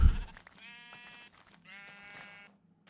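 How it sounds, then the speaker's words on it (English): Two drawn-out sheep bleats from the Minecraft video game, fairly quiet and alone, each lasting about a second with a short gap between them. "Hello, sheep."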